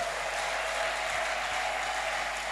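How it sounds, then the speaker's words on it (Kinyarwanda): A church congregation applauding at an evangelist's sermon, a dense, even wash of many hands clapping together, sustained at a moderate distance throughout. "Dukomere Imana amashyi."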